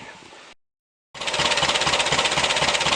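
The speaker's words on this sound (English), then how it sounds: "show you the engine running over. There she goes." A car engine idling under the open bonnet, loud and close with a rapid, even mechanical chatter, starting abruptly after a short silence.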